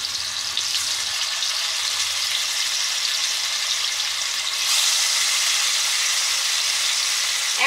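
Boneless chicken chaap frying in hot oil, a steady, dense sizzle that holds throughout and swells louder about two-thirds of the way through, with no talking.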